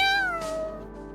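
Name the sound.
cat meowing in video game Aether Gazer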